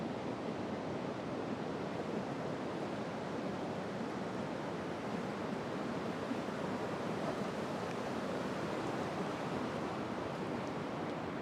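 Surf on the beach at Whitby harbour as the tide comes in, a steady broadband wash of breaking waves that stays loud and continuous throughout, with some wind noise and no speech.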